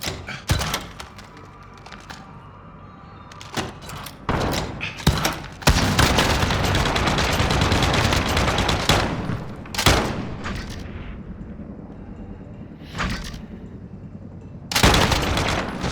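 A RAAL LMG loaded with Lapua rounds fires in Call of Duty: Modern Warfare, with loud sustained automatic bursts and booming single shots spread across the span, some long continuous strings and short pauses between.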